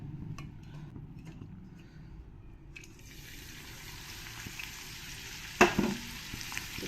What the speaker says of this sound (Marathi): आता इथे मी तेल आहे ना तापवायला ठेवलं आहे आणि आता डायरेक्ट आहे ना हा जो ठेसा बनवलेला आहे हा आपण याच्यामध्ये टाकूया